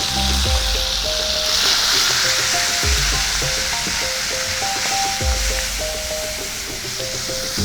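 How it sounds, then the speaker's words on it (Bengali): Mashed shrimp seasoned with salt and turmeric frying in a pan, a steady loud sizzle with recurring scrapes and knocks of stirring throughout. "ভেজে নিচ্ছি চিংড়ি মাছটা।"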